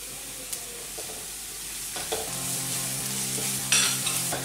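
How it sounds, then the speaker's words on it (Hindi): Ginger, garlic and green chili paste fries with onion in a pan for pav bhaji, giving a close, lively sizzle with stirring scrapes and a few sharper spatters and clinks. "जिंजर गार्लिक और हरी मिर्च की पेस्ट को प्याज के साथ एक मिनट के लिए भून लिया है"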